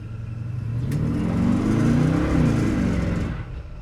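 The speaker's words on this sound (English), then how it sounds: "Oh, I laid a nice patch of rubber back there." A 1984 GMC Sierra C/K 1500 pickup accelerates hard with spinning tires, its engine note rising and rolling for several seconds, loud and close, with tire squeal, then easing off.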